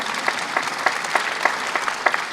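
An audience at a Los Angeles red carpet film premiere applauds, the clapping swelling in a regular pulsing rhythm, moderately loud throughout.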